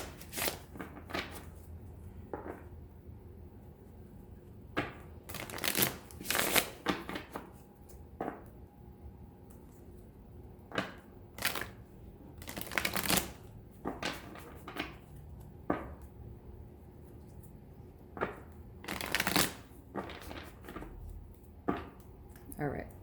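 Tarot cards shuffled by hand at a reading table, bursts of riffling and flicking paper snaps scattered irregularly among soft handling noises, fairly close and moderately quiet, with no talking.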